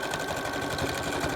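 A sewing machine stitches through thick fabric while sewing a breakaway face mask, a steady close, even motor whir with a rapid needle rhythm running throughout, with no talking.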